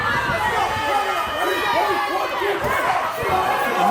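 A wrestling crowd at an outdoor summer wrestling show shouts and roars angrily, a dense, loud wall of overlapping voices close around the listener with no break.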